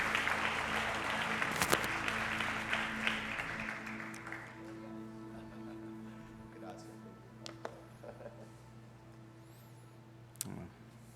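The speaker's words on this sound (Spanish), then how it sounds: "Recibámoslo con un fuerte aplauso." A church congregation applauds to welcome pastor Eliseo Rodríguez, a loud burst of clapping that fades after about four seconds into quieter room tone with a few scattered sharp claps and a low steady hum.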